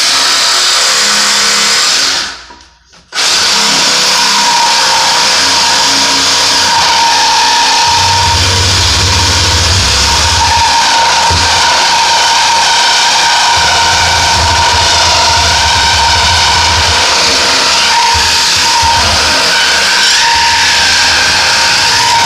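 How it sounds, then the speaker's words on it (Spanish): A power tool cuts through steel toilet seat bolts in a commercial building, a loud continuous grinding whine with a steady tone, a brief drop near the start and a deeper rumble later. "Recuerda que es acero lo que estamos cortando"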